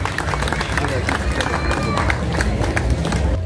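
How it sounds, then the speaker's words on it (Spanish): An audience claps in a lively, dense burst at a neighborhood anniversary ceremony honoring a colonel, with crowd murmur and voices mixed in throughout. "Un fuerte aplauso para nuestro coronel acá"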